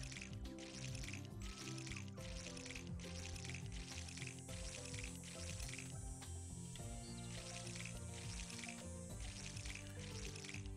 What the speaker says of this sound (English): I'm going to get this watering can out and just carefully water things